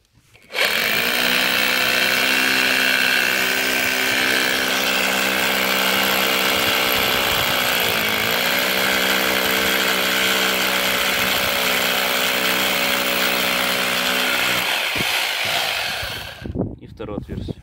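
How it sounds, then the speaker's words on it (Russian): A rotary hammer with a 10 mm bit drills into concrete: a loud, steady power-tool drone runs continuously for about fifteen seconds with a brief dip in pitch midway, then winds down and stops. "Вот берем перфоратор, сверло десятка по бетону. Вот. И сверлим отверстие."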